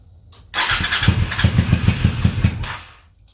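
A Honda Shadow motorcycle engine, running on one cylinder, cranks and catches, running roughly and unevenly with a sputtering, lumpy rhythm for a few seconds before dying away.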